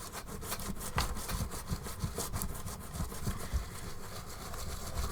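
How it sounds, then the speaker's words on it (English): Paper being rubbed to transfer a coating onto a collage page, heard as rapid back-and-forth scraping strokes, close and steady, with no talking. "Don't know how hard I have to rub it to kind of get a coating on."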